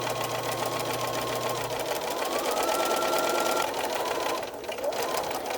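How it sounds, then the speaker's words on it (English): A sewing machine runs steadily at close range, stitching a quarter-inch French seam in sheet fabric while a flat sheet is made into a fitted sheet, its even whir holding a constant pitch with a brief dip near the end. "To sew a French seam, you first sew a 1/4 inch seam."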